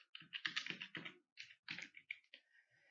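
Someone types on a computer keyboard while entering an address into Tally ERP-9 accounting software. The keystrokes come close and fairly quiet in quick, uneven bursts, with brief pauses between the runs of clicks.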